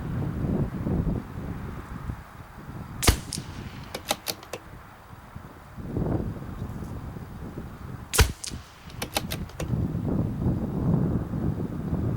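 Wind gusts rumble across the microphone at an outdoor shooting range in roughly 10 mph winds, rising and falling in swells between two groups of sharp rifle shots with rapid clicks after each.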